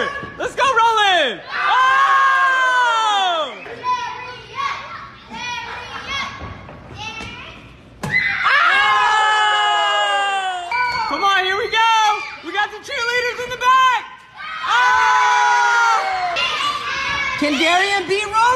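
A crowd of children cheers and screams wildly at a contest, loud shrieks and yells rising and falling in bursts, with thumps and excited shouting voices throughout.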